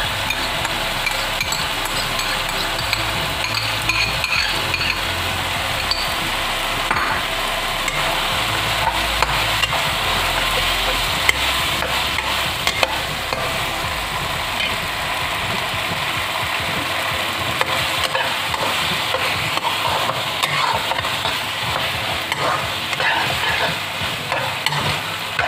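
Ketchup and tomato puree being stirred in a frying pan while preparing chicken lasagne, a steady sizzle and scraping of the spoon running continuously at close range, with no voices.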